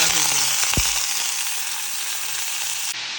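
Mutton frying in hot oil for biryani makes a loud, continuous close sizzle, with one brief low thump near the start and a sudden cutoff at the very end.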